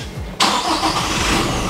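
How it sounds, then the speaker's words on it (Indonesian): Diesel engine of a new Toyota Fortuner cranks and catches after a short quiet stretch, then settles into a steady, close idle. "Coba ya, gue mau coba hidupin nih."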